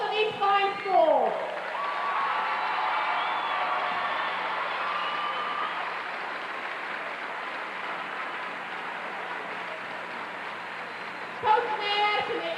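An audience applauds the teams at the 1996 Ohio girls' high school basketball state final trophy presentation, a broad, sustained wash of clapping filling the arena, with an announcer's voice at the start and end.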